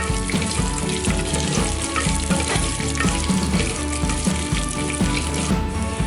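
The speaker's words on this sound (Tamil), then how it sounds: "வதக்கிறதுக்கும் சின்ன வெங்காயம் பூண்டு சேர்க்கிறோம்" Small onions and garlic sautéing in oil for a Tamil pepper curry, a steady close sizzle and crackle filling the whole stretch with no talk over it.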